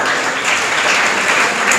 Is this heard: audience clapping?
yes